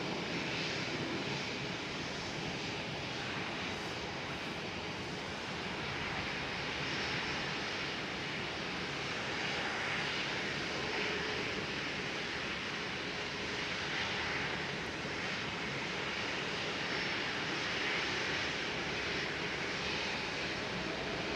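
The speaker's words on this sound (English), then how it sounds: "737 starting up the engines." The engines of a KLM Boeing 737 spool up at Schiphol after pushback. A steady, broad jet rumble and hiss holds evenly throughout at a moderate distance, with no voices.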